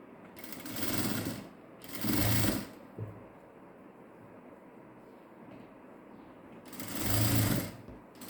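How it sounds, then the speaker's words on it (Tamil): Sewing machine stitching a blouse in three loud whirring bursts, two close together early on and one near the end, with quiet pauses between runs. "கரெக்டாக 4 இன்ச்லேயே தையல் கொண்டு வாங்க, ஜாஸ்தியாக கொண்டு வர வேண்டாம். நம்ம டபுள் ஸ்டிச் போட்டுக்கலாம்."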